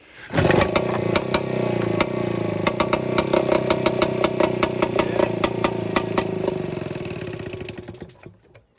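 A 1959 two-stroke outboard boat motor runs loud and near for about eight seconds, its steady buzzing drone punctuated by regular sharp pops before it cuts off.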